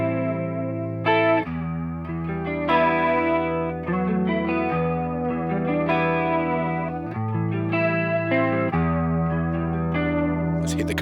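An electric guitar played through a PRS Wind Through the Trees flanger pedal with only its top LFO active, giving sustained notes and chords a sweeping, swirling modulation at a steady level, with no voices.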